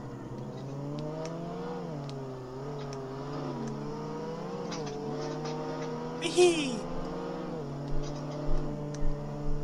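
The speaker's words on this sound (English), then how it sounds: "Listen to that engine roar." Car engine revving and roaring in the Roblox-style game Jailbreak, a steady mid-pitched drone rising and falling, with a person talking over it and a few short bursts near the end.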